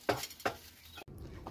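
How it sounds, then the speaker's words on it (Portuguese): Rice and chicken reheating in a pan, stirred with a utensil: two sharp scraping clinks against the pan, then softer scraping and faint sizzle, close and fairly quiet with no talk. "Eu tô esquentando um arrozinho com frango de ontem aqui"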